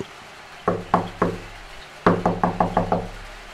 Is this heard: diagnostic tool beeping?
no